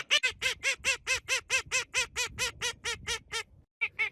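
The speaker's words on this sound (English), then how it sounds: "So these are the 5 ducks that are currently running around, and then Anna's obviously holding one." Pet ducks quacking in a rapid, steady series of loud, close, nasal calls, about a dozen in a row, then a short pause and a couple more quacks.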